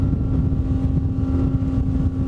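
A Ranieri International Next 290 SH motorboat engine drones steadily at high speed, about 31 knots at 5,300 RPM, a constant low roar with a sustained tonal hum and wind buffeting the microphone.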